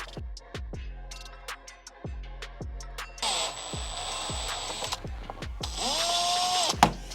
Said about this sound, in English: So we'll screw down this first one.